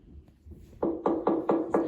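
Knocking at a door played back from a phone, five evenly spaced knocks following a faint quieter start, crisp and fairly loud in a quiet room.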